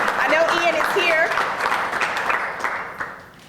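Audience applause for violence prevention staff at a community press conference, a steady wash of many hands clapping that gradually thins and fades toward the end, with voices audible over it.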